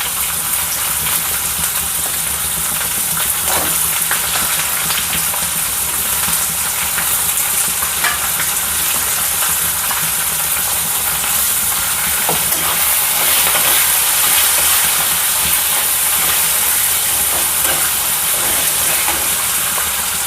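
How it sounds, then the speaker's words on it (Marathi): Onions fry in hot oil in a pan with curry leaves, giving a loud, constant sizzle and hiss with occasional stirring scrapes, close up and continuous with no talking. "आणि हे आता झालेलं आहे त्यात आपण कांदे टाकूया"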